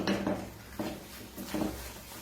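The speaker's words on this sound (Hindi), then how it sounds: "जब तक इसके साइड्स नहीं क्लीन निकलते तब तक इसे आपको चलाते रहना है" A spoon scrapes and knocks around a pan while khoya is stirred for chocolate mava barfi, three or four soft, close scraping strokes spaced about every half second, quiet with no talking.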